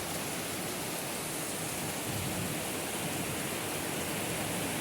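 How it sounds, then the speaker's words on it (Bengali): Heavy morning rain in a village in Madhupur, Tangail, Bangladesh pours steadily as a dense, unbroken hiss with no pauses, loud and close throughout. "প্রচুর বৃষ্টি"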